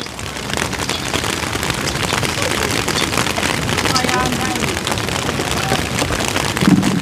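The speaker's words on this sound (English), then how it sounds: "Right now, the rain." Steady rain pours down on an outdoor cooking spot where curry cabbage and boiled dumplings are being made over a fire, a dense continuous hiss with occasional louder splashes, while someone talks over it.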